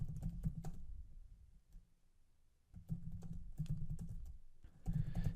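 Computer keyboard typing heard close up, with bursts of soft key clicks separated by a short pause, then a second run of keystrokes ending in a few firmer taps.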